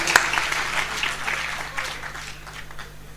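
Seated audience in a hall applauding together, a steady wash of clapping that slowly thins out toward the end, heard alone without talk.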